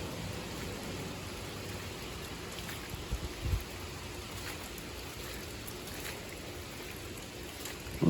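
Steady rain pattering on the metal roof panels and decking of a shack under construction by the water, a soft, even hiss with a faint low rumble and no voices.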